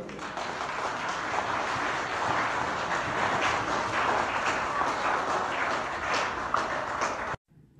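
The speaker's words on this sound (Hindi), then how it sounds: "तो सभी महिला शिक्षिकाओं के लिए जरूर ताली बजाई जाए।" Audience clapping for women teachers at a school gathering in Damoh, a steady dense wash of many hands for about seven seconds before cutting off abruptly.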